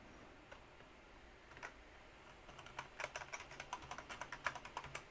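A password is tapped out on a computer keyboard, sparse keystrokes at first, then a quicker run of soft, close clicks in a fairly even patter, quiet and with no voices.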